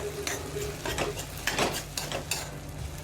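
Ingredients for a fasting-day dish roasting in a pan, a continuous close sizzle with repeated spatula stirring and scraping against the metal, no voices.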